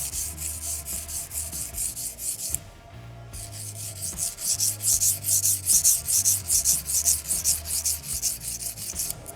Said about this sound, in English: I want to wear down any rounded edges that are on my knife.